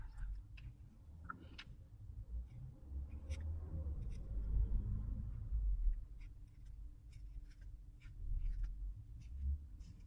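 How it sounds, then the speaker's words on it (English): A purple Posca paint pen writes on an art journal page, giving soft, faint scratchy strokes and light taps in an irregular rhythm over a low background hum. "I will write the word perspective in purple."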